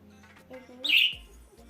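Small pet birds chirp and tweet up close, a bright burst of high twittering amid soft household sounds.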